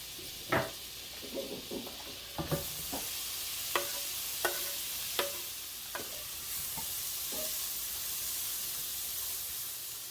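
Butter sizzles with broccoli in a pan while a utensil knocks and scrapes in scattered close taps, over a constant frying hiss that swells partway through.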